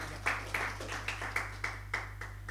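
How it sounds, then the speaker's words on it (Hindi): Audience members at a novel launch ceremony in Tonk clap for a guest, a sparse, evenly spaced run of about eight claps over a low steady hum, fairly quiet and without a fuller crowd. "आप उनके लिए तालियां बजा सकते हैं।"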